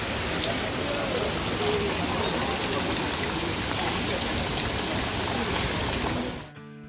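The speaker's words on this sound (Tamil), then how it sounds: "சரியான மழை" Heavy rain pours down steadily in Munnar, a dense, loud hiss that keeps going for several seconds before cutting off abruptly near the end.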